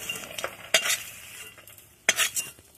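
Bori (lentil dumplings) fry in hot oil with a constant crackling sizzle, broken by two sharp scraping strokes of a spatula stirring the pan, close up with no voices.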